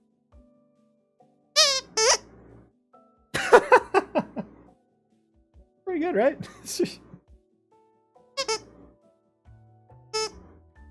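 A squeaky toy ram named Mayuri is squeezed in several separate bursts of shrill, rubbery squeaks, some doubled and some drawn out, with quiet gaps between them. A voice speaks briefly among the squeaks.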